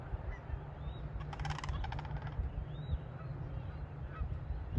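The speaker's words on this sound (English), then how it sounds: "there's some Canadian geese coming up on their right-hand side" Canada geese honk a few times at a wildlife refuge, the calls faint and distant over a steady low outdoor rumble, with one brief cluster of sharper calls in the middle.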